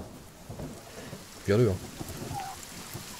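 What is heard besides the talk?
rain in video game The Forest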